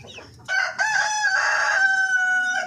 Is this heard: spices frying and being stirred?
no